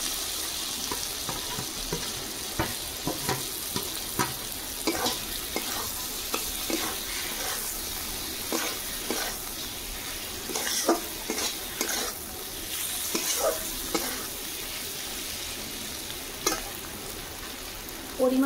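A spice paste is stir-fried with fried potatoes in a pan, giving a continuous sizzle. Repeated spatula scrapes and knocks break through it at irregular intervals, and no one speaks.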